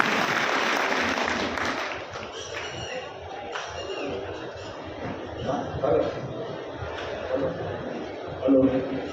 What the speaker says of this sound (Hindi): कृपया जोरदार ताली स्वागत करें हमारे अतिथियों का।